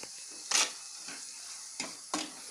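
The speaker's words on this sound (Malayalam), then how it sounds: "വഴറ്റിയെടുക്കാം." Chili and coriander powder sautéing in a pan for prawn curry give a low, soft sizzle, broken by a few sharp scraping stirs of a spatula against the pan, with no talk.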